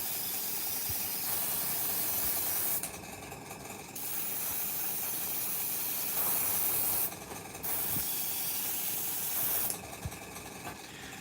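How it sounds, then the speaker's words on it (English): An air compressor runs in a steady hiss while paint is sprayed, as SMS Advance paint is tested, in several long bursts of spraying broken by short pauses with the compressor still running, close and with no talking. "should turn the compressor off for now"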